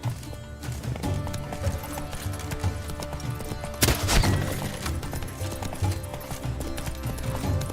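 Roach the horse galloping in The Witcher 3 in Toussaint, a dense rapid hoofbeat rhythm under busy game sound and music, with a louder crash-like burst midway.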